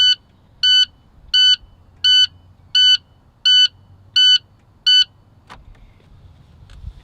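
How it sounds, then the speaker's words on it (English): Eight evenly spaced electronic beeps from an International truck's dashboard warning buzzer pulse in a steady rhythm, loud and close, then stop, leaving a low vehicle rumble and a faint click. "We're going to hold these two together until the buzzer stops."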